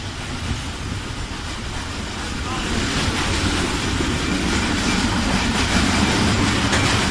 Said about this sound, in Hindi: ये ट्रेन पूरी हमने बुक कराई है और हम अकेले लेके जा रहे हैं।